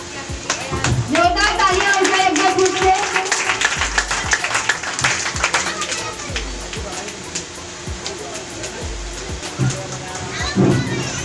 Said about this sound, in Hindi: जोरदार तालियां हो जाए एक बार फिर से।